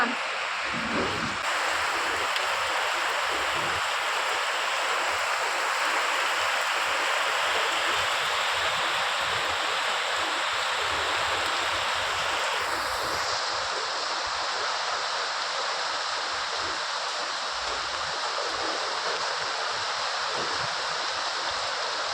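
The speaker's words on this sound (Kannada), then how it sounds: "ನಮ್ಮನೆ ಹತ್ರ ಭಾರಿ ಮಳೆ ಬರ್ತಿದೆ" Dense, steady hiss of heavy rain with rushing floodwater flowing in front of a house, constant and enveloping throughout, no clear voices standing out.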